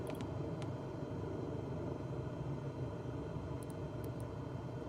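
Laboring propeller airplane engine in Flight Simulator 2024, throttle unresponsive and fuel mixture pulled fully in, a steady low rumbling drone that holds evenly throughout with no voices.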